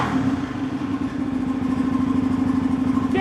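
A 1995 Honda XR250R dirt bike with a freshly rebuilt top end idles steadily nearby, a low, even single-cylinder putter with light mechanical clatter, running alone without talk.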